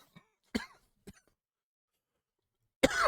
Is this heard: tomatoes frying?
no